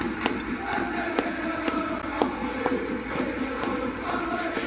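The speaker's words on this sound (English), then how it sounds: "Celtic football fans singing, if you hate the royal family, clap your hands." Celtic football supporters chant together in a large crowd, a dense roar of massed voices with rhythmic clapping accents running steadily throughout.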